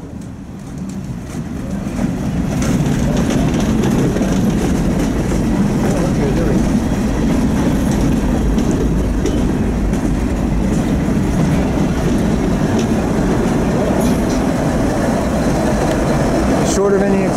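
A freight train with a distributed power unit rolls past in the Greater Richmond, Virginia area, a loud, close, sustained rumble of wheels and cars with rhythmic clatter and brief squeals, a voice calling out over it.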